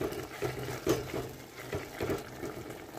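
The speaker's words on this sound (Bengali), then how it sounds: "টকবগি ফুটছে" A ridge gourd curry with poppy seed paste bubbles and gurgles steadily in a pot, quiet and close, with soft irregular pops of boiling.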